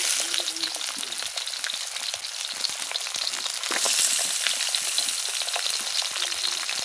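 Potatoes and vegetables frying in oil in a wok-like pan, a steady loud crackling sizzle with scattered pops that swells slightly partway through.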